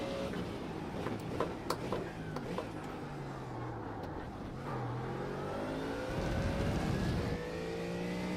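A Mustang GT3 race car in the iRacing sim accelerates out of a corner at the Red Bull Ring, engine note climbing through gears with rising whine and a louder surge near the end, no voices.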